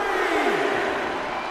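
Arena crowd in the WWE 2K22 video game roars and cheers in a steady, loud wash of noise throughout the short moment.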